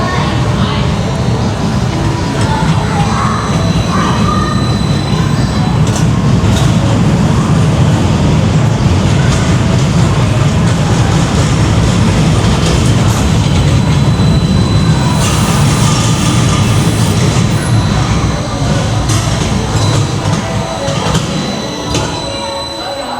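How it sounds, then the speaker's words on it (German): An amusement park ride train is shunted backwards, producing a steady, loud rolling rumble of wheels on track with faint squeaks, continuous throughout with no pauses. "rangiert den Zug gerade wieder rückwärts"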